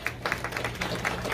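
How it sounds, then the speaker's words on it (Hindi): Audience applause at a live speaking event in Baltimore, a thin patter of claps with a few sharper hits, steady and fairly close, no talk over it. "तो ताली हो गई मेरे ख्याल से इस बारे में"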